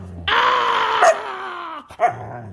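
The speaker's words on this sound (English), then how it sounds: "You're not allowed to bark at me like that." A husky makes a long, strained whining growl for about a second and a half, followed by a short sharp yelp, close and fairly loud.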